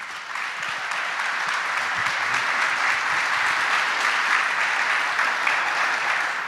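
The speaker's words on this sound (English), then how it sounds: "Please, everybody, give him a round of applause." Dense audience applause at a TED event inside Coxsackie Correctional Facility, a sustained, even roar of many hands clapping for the whole stretch without letting up.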